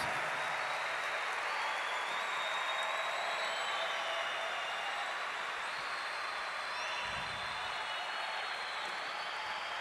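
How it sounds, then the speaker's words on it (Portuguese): Congregation applauding during a Catholic sermon in church, a broad steady roar of clapping that holds at full level with no pauses, the players of a faint tonal hum running beneath. "E dê uma salva de palmas para nosso Senhor, se você acredita realmente nisso."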